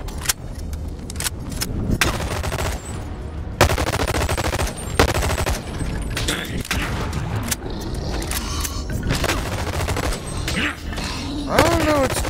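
Rapid bursts of small-gun fire from the VR game Bonelab, clustered volleys and single pops spread across the stretch, loud and close with short pauses between, and a voice talking briefly amid the shooting.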